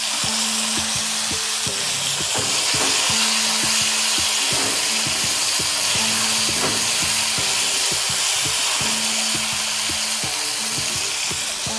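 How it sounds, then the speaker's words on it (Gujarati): Cherry tomatoes tipped into hot oil with garlic and a pinch of asafoetida give a loud, steady sizzle, joined by scraping and knocking from stirring in the pan; close and continuous, with no talking. "હવે એમાં આપણે ટમેટા નાખી દઈશું."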